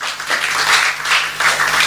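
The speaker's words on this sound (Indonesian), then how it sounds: "Tepuk tangan dong buat Tuhan" A church congregation bursts into dense, loud applause that fills the room for its whole length, many hands clapping at once with no pause.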